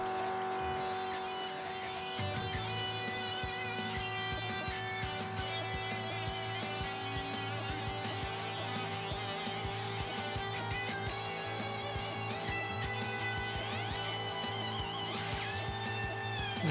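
A car in a drift racing video game revving steadily, its engine tone climbing and holding with shifting harmonics and bursts of tire noise, loud and continuous with no talking.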